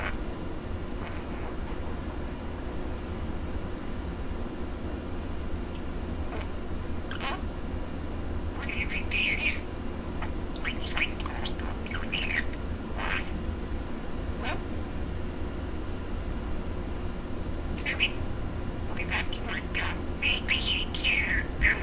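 A budgie gives shrill squawks and chirps in scattered bursts, loudest in the middle and near the end, over a steady background hum.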